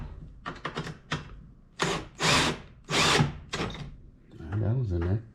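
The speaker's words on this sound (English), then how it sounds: "I'm gonna use my drill." Cordless power drill driving screws while mounting a Minn Kota Ultrex trolling motor, several short bursts followed by longer whirring runs with ratcheting, close and loud, with a voice talking briefly at the end.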